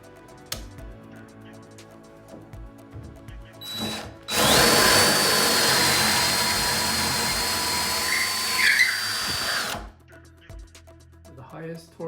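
A DeWALT DCK283D2 cordless drill runs in second gear, a loud high whine of about five seconds after quiet handling noises and a voice, then stopping abruptly.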